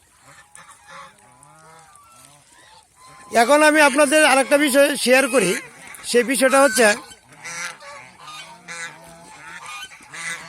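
A goose, kept by a Bangladeshi keeper with brooding eggs, gives a loud burst of repeated harsh honks in the middle, then a second shorter burst, with someone talking before and after.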